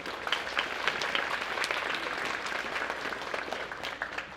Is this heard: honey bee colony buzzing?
no